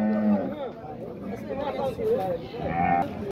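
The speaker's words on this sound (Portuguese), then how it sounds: "Só duas vaquinhas bacanas aqui do nosso amigo Léo." Dairy cows low and moo amid a busy crowd of people chattering nearby at a livestock market in Dois Riachos, Alagoas, Brazil, several animal calls overlapping the talk.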